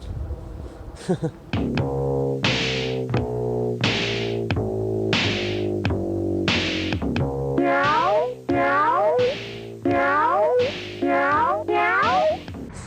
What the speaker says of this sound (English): Seen that cute little black cat?